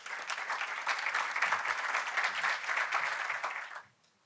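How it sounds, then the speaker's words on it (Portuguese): Conference audience at a sustainable cities forum applauds to welcome a speaker, steady and full for nearly four seconds before it stops abruptly into near silence. "Un fuerte aplauso, recibamos entonces al señor Gameiro."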